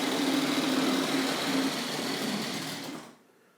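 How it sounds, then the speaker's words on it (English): An older Hornby model train motor runs with a steady, buzzing half-wave whine and a constant hum, loud and continuous for about three seconds before cutting off into near silence. "these older motors really do have that sort of half-wave sound about them"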